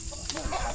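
A chicken gives a short, close cluck over a soft outdoor background.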